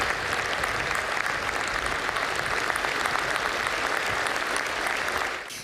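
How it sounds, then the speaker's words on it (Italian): A standing audience at a business association meeting gives long, steady applause in memory of the victims, the dense clapping holding evenly loud throughout before falling away at the very end. "Si alzano in piedi con un lungo applauso"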